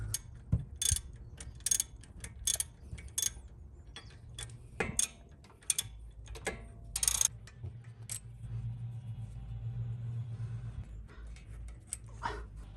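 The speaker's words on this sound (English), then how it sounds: "To take off the brake caliper, we have to undo two bolts, one in the bottom and one on the top." Ratcheting clicks and metallic turning from a socket wrench loosening the two brake caliper bolts on a 2018 Toyota Highlander, close and fairly quiet, in irregular bursts over a low background hum.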